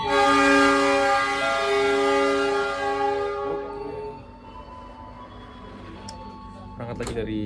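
Horn of the KA Sangkuriang passenger train departing Banjar, a loud sustained multi-tone blast for about three and a half seconds that cuts off into a low rolling rumble, with faint voices and clatter near the end.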